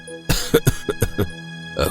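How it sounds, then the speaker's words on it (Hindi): A person coughs in a rough, rapid burst of five or six hacks, pauses briefly, then lets out one more cough, close by. "बस थोड़ी सी खांसी हो रही है"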